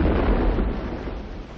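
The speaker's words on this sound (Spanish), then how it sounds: "El crucero de guerra Aurora efectúa un disparo de salva." The cruiser Aurora fires a single blank salvo shot, a loud heavy boom whose deep rumble rolls on and slowly fades, with no voices.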